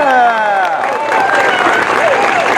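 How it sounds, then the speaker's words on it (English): Crowd applause and cheering at the opening ceremony of the Mystic Timbers roller coaster at Kings Island, a dense steady wash of clapping with voices shouting over it, loud and close throughout. "give him a nice round of applause"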